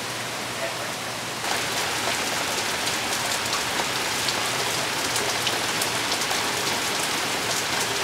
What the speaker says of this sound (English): I'm happy it's raining though.